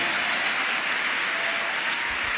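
A church congregation breaks into applause at a morning prayer service, a dense, continuous wash of clapping from many hands filling the room evenly and without pause.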